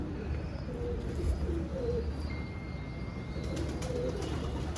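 Low, soft cooing from a purebred Teddy pigeon, a young bird around five or six months old, murmuring steadily at close range over a faint, continuous hum of background noise.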